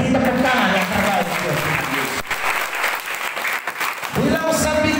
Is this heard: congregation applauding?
yes